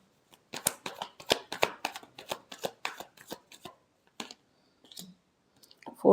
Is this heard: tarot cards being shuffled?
yes